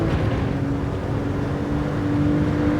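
A Porsche engine in a VR racing game drones under hard throttle, giving a steady, sustained tone with a rough mechanical rumble beneath it. It sounds close and continuous, with no talk over it.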